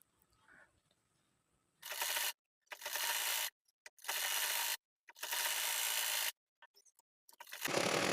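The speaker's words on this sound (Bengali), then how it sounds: "আমি এখানে কলির কাছে দুটো সেলাই দিয়ে নিচ্ছি" A sewing machine stitches a seam on palazzo pants in several bursts of steady mechanical whirring, close and fairly loud, separated by short silences, with no talking.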